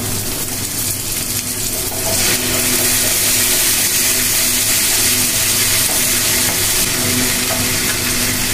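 Ginger, garlic and onion frying in a pan, a steady loud sizzle that swells after about two seconds and keeps hissing without a break, with no voices over it.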